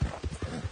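Tiny horse hooves clip-clopping in a video game, a quick steady run of close, clear hoof knocks over a brief stretch.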